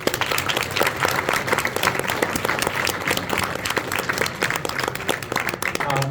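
Sustained applause from a wrestling banquet audience honoring the seniors, dense steady clapping filling the room with a faint murmur of the crowd underneath.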